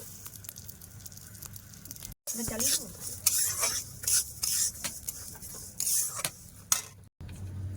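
Mung dal frying in hot oil in a pan, with bursts of sizzling and scraping stirring strokes from a utensil, broken by brief pauses.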